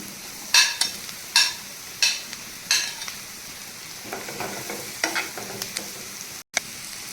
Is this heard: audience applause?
no